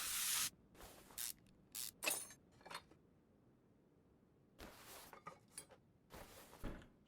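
Parts being sprayed in the Car Mechanic Simulator 2021 video game: short, sharp hissing spray bursts come in quick clusters with pauses between them, mixed with light metallic clinks, close and fairly quiet.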